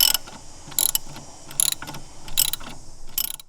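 Socket ratchet loosening an engine mount bracket bolt on a Volvo S60R, a series of quick metallic clicking bursts repeating every second or so, close and fairly loud with no talking.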